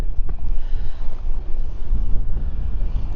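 Wind gusting at a carp fishing lake, a steady low rumble buffeting the microphone throughout, loud and close with no other sounds standing out.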